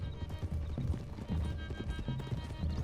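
Horse hooves clip-clop in a steady, rhythmic gait during a ride in the video game Red Dead Redemption 2, close and moderately loud, with an occasional neigh and faint background game sound.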